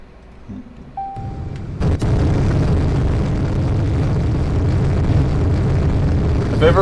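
Roblox Plane Crazy aircraft with two engines strapped to a fuselage: after a short beep, a loud engine roar kicks in with a sharp burst and holds as a dense, steady drone throughout.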